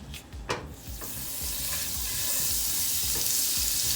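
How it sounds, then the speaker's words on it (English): Butter melting into hot oil in a pan for a cornbread dressing with chicken, a steady close sizzle that rises and grows brighter after a few soft clatters at the start. "we're going to add some butter as well"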